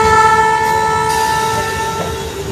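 A passenger train with sleeper coaches running, a loud steady rumble under sustained tonal horn-like hums, close and continuous with no talk.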